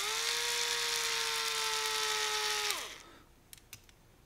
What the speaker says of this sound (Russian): И откручиваем 4 винта